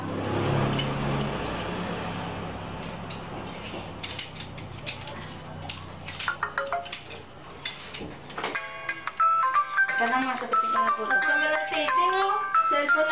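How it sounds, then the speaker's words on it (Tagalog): A cellphone ringtone plays in a Filipino documentary scene, a bright repeating tonal melody entering after several seconds of mechanical clatter and ratcheting, fairly loud and close, with voices around it. "Cellphone na naman."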